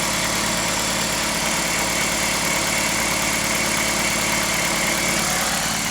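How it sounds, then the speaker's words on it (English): A Toyota Celica engine idles steadily and loudly throughout, a continuous rumbling hum while the cooling system is being flushed after a head gasket repair. "All right, start the engine"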